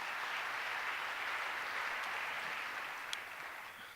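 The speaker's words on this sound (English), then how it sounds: "One more round of applause for them." An audience applauds at a volunteerism event, a dense, steady wash of clapping from many hands that holds for several seconds and then begins to taper off near the end.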